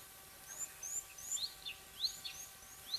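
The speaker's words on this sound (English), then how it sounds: "It looks like quite a few grey-headed sparrows from what I can tell, and of course some laughing doves as well." Grey-headed sparrows and laughing doves call around a bushveld waterhole, with repeated high chirps and tweets scattered over a quiet background hiss and no talking.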